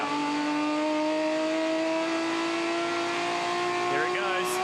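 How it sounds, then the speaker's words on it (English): Touring Car Masters race car at Symmons Plains screaming at high revs in top gear, a steady sustained engine howl with a slight pitch rise, loud and close, with a commentator talking over it. "listen to this thing scream in top gear."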